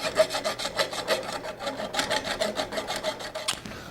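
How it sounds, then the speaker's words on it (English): A flat file rasps back and forth around drilled holes in metal during a ZF8HP45 transmission repair, close-up strokes in a steady scraping rhythm with no talking. "we're going to take a flat file and go around each one of these holes and deburr these holes"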